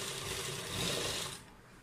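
Sewing machine stitching a frill and elastic onto leftover cloth for a girl's top, a steady mechanical whirring run for over a second before it stops and leaves quiet room noise.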